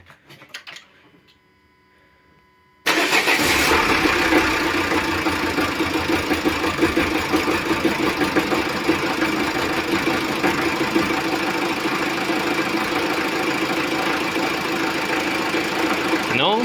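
A Renault Scenic 1.9 engine cranks and fires for its first start after a timing belt change, then settles into a loud, rough, knocking idle that carries on steadily up close, with some talk over it.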